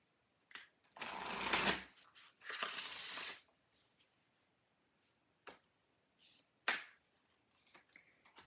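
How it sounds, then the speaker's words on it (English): Oracle cards are shuffled in two long riffling bursts near the start, followed by scattered light taps and card flicks in a quiet room. "So let's look at your oracle cards."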